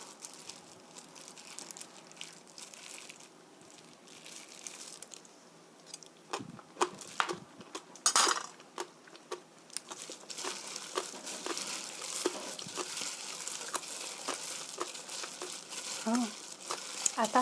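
Seasoned Korean cucumber salad is tossed and mixed by hand in a bowl, giving soft wet squishes, crinkles and crunchy rustles that come in irregular bursts and grow busier toward the end.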